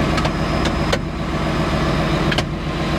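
A bulldozer engine runs steadily with the throttle turned up, a close, constant mechanical drone with a few faint clicks and knocks over it.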